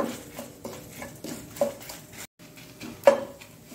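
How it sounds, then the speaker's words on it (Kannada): Urad dal and chillies frying on low heat in a little oil, faint popping and crackling close by, mixed with the clink and scrape of a spoon against the pan, with a brief pause midway. "ಈ ಉದ್ದಿನ ಬೇಳೆ ಪಟಪಟ ಹೇಳ್ತಾ ಉಂಟು"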